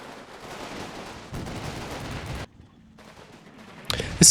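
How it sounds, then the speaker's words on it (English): Infantry gunfire in the WWII wargame Combat Mission, during a battle around Carentan near Utah Beach: a steady stream of small-arms fire and crackling shots, dropping briefly quiet before a loud burst at the end. "I'm just going to let the infantry do their work and pour some gunfire onto the position"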